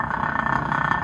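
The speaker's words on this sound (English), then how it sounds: "That noise is just the pinion bearing." A steady mechanical whine of meshing pinion gears in a Wheel Horse tractor's Peerless transaxle rides over a low rumbling hum, continuous and fairly close.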